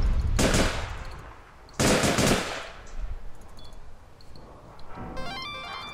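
Rapid bursts of gunfire from a nuclear HVR weapon in the online shooter APB Reloaded, with loud sustained volleys and a quieter stretch between them.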